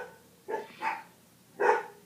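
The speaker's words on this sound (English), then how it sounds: "I don't like it when dogs bark in the background." A dog barks in the background, three short barks at moderate distance in an otherwise quiet indoor room: two close together, then one more after a pause.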